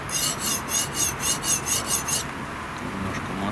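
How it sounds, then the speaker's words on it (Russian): Kitchen knife sharpened on a Blitz manual knife sharpener: a series of about eight rhythmic rasping strokes of stone on steel, close and fairly loud, stopping after about two seconds and leaving quiet background. "Непосредственно начинаем заточку."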